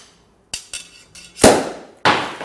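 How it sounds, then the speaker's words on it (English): Champagne bottle opened with a sword along the seam: a run of sharp clinks and impacts, then a loud pop with a quick decaying ring, followed by another sharp crack, close and with no talking. "that was the sound of a champagne cork hitting a slightly surprised passerby"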